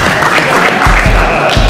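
Audience clapping at a magician's comedy show, a brief burst of dense hand claps, loud and close, with deep thumping sounds partway through.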